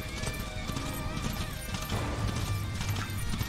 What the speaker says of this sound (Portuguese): Vamos chamar o cavalo.